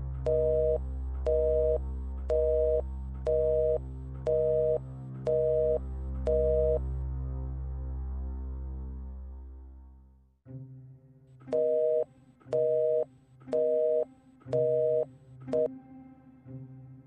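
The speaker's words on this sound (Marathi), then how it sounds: "फोन केला होता पण लागत नाहीये." A telephone busy signal beeps in a steady repeating pattern of short tones with gaps, runs for several seconds, breaks off, then resumes with a few more evenly spaced beeps over a low hum, with no talking.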